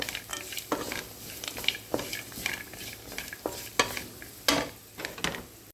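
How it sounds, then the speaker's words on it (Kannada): Semolina (rava) frying in a pan while a spoon stirs it, a soft sizzle under repeated scraping strokes in an irregular rhythm, close and moderately quiet, with no voices. "ಇದನ್ನು ಕೂಡ ಫ್ರೈ ಮಾಡುವ, ಒಟ್ಟಿಗೆ ಫ್ರೈ ಮಾಡುವ ಈ ಥರ"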